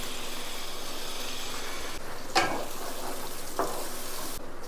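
Fried ground paste goes into a pan of sautéed tomatoes, giving a steady sizzle close by with two sharp utensil clinks against the pan.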